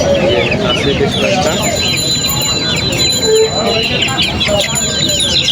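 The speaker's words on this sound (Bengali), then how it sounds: "এখানে বেশ সুন্দর দুইটা দেশি মুরগি এবং মোরগ আসছে" Desi hens and roosters cluck and squawk busily at a poultry market in Kaptan Bazar, several birds overlapping near and far, with people talking and general bustle around them.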